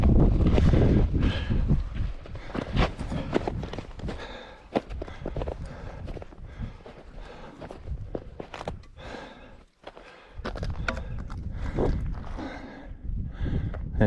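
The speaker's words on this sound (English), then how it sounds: "The wind's dropped a little." Strong wind buffeting across a Scottish mountain summit on the Creag Meagaidh route near Ben Harain, gusting loudly at first, easing in the middle, then rising again, mixed with scuffing movement close by.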